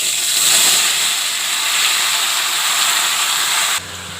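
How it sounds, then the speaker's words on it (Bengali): Pumpkin pieces frying in a pan give off a loud, steady sizzling hiss that holds for about four seconds before dropping suddenly quieter. "কুমড়ো ভাজা হচ্ছে"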